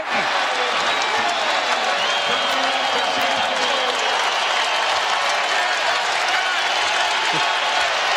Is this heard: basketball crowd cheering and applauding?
yes